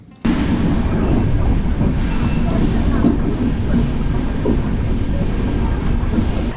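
Saraighat Express train on the Howrah to Guwahati route pulling into New Bongaigaon Junction in Assam, a steady loud rumble of wheels and carriages that holds through the whole stretch.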